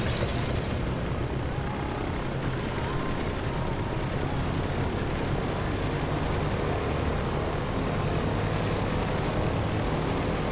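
DC-3 twin propeller engines throttling up in Microsoft Flight Simulator, a dense, loud, steady roar that holds unbroken throughout, close and filling the whole sound.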